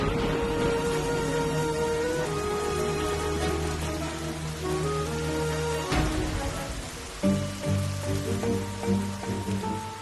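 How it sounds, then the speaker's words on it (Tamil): Sudden heavy rain pouring down steadily as a dense, continuous hiss of drops on surfaces, with a faint musical score in the background throughout. "திடீர்னு எதிர்பார்க்காம ஒரு மழை?"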